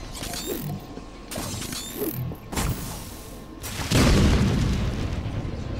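In-game grenade blast in Batman Arkham City: mechanical clicks and thuds build to a loud, booming explosion that rumbles on for nearly two seconds.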